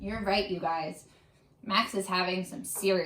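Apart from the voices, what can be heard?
None of the usual background noises is heard.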